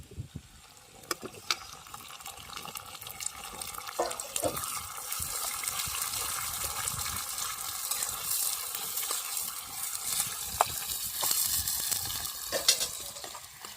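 Chilapi fish is dropped into a pan of onion, tomato and spices and fries with a soft, continuous sizzle. Occasional stirring taps and clinks sound over it.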